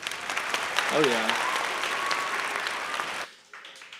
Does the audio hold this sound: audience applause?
yes